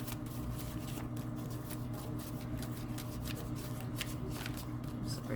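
Tarot cards are shuffled and flipped by hand in a steady stream of soft papery riffles and slaps, close and continuous over a low background hum.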